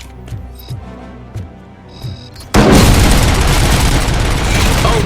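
A specialized cannon firing in the video game RoboCop Rogue City, heard as a sudden massive blast that erupts after quieter rhythmic game music and thumps, then sustains as a loud roaring, crackling rumble.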